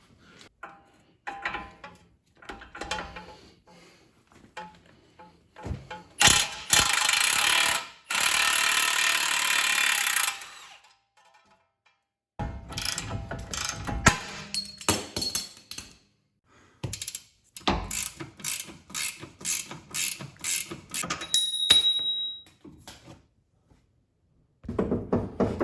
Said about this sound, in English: I'm gonna go ahead and remove this outer tie rod here